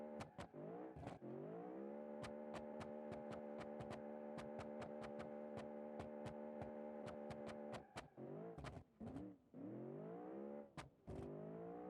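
A V8 manual car engine idles and revs, holding a steady droning pitch through the middle with sharp clicking transients throughout, then dipping and rising again near the end; no talking.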